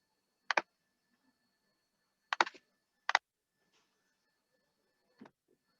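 A few short, sharp clicks of computer keyboard typing in separate bursts while an IP address is re-entered during wireless network setup, close and clear with no voices.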